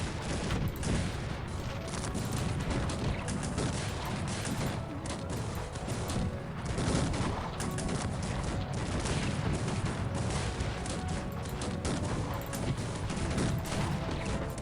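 Multi-barrel cannons fire in a Cossacks 3 battle, a dense continuous barrage of overlapping booms and crackling volleys that stays loud for the whole stretch.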